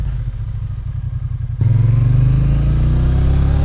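A Triumph Bonneville T120 1200cc motorcycle pulls away hard in first gear, its engine note jumping abruptly into a loud, steady, rising roar after a brief lower rumble, with no talking over it.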